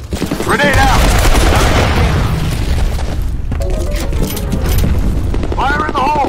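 Grenade blast in the multiplayer shooter FEAR Combat, a loud booming burst amid continuous gunfire and battle noise, with players' voices shouting over the chaos.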